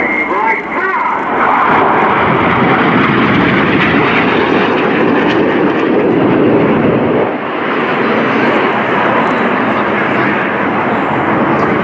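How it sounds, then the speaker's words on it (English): Red Arrows jets performing in an air display at RIAT 2018, a loud, sustained roar of jet engines sweeping overhead, with a voice talking throughout. "The jets about to split into a huge palm with the synchro pair staying low."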